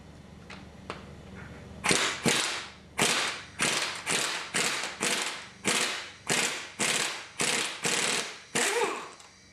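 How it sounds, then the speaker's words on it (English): An impact gun working an overly tight bolt loose on a Nissan KA24DE engine teardown, about a dozen sharp hammering bursts in steady rhythm, close and loud, after a few light clicks. "Since ours was too tight, we're going to use the impact gun."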